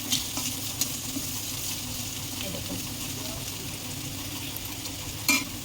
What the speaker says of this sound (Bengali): এখন আমি ক্যাপসিকামটা দিলাম, আনার তো বেশি হয়ে যেত ক্যাপসিকামটা ভাজা